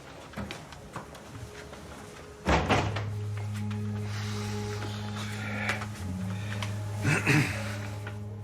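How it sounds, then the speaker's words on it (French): A door is shut in an indoor room: a firm thunk with a short rattle midway, then a steady low hum. A second softer knock-like impact follows near the end, with no talk. "Fermez la porte."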